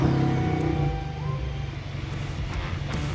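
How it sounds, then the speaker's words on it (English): Tuned Ford Mustang EcoBoost engine cranks and fires into a loud rumbling idle that settles and holds steady, close up, with a few faint clicks. "Now we can start the car and see how it goes"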